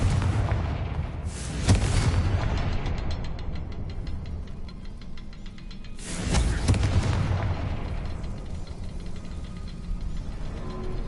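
Confringo fire spell explosions in the Hogwarts Legacy video game: two loud booming blasts several seconds apart, each followed by a long rumbling decay, over steady background game noise.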